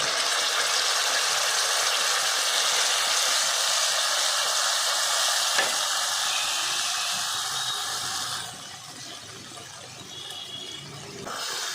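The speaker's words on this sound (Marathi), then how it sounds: "आता वाटलेली ग्रेव्ही घालायची आहे" Ground gravy paste hits a pan of frying ginger and garlic for dum aloo, producing a loud, even hissing sizzle that drops abruptly to a quieter level near the end, with no voices.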